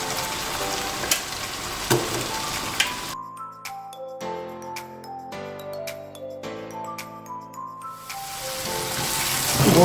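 Chicken sizzles in a karahi with onion and green chili, a steady hiss that drops back briefly in the middle while ringing, tonal sounds take over, then returns loud and dense.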